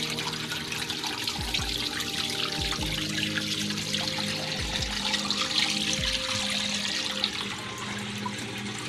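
Kuppet portable washing machine draining muddy water, a steady rushing, trickling flow that holds a constant level throughout, with low rhythmic pump thumps underneath and no talking.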